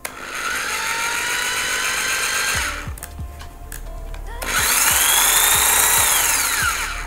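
A Makita HP2051 electric hammer drill whirs loudly in two long bursts with a brief lower-pitched pause between, accompanied by light clicking and knocking from handling.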